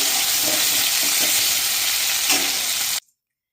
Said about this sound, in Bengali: এখানে আলুটাকে ভালোভাবে ভেজে দিচ্ছি।